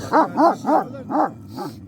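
A dog barks five times in a steady, evenly spaced run, close and fairly loud, each bark short and sharp with no talking around it.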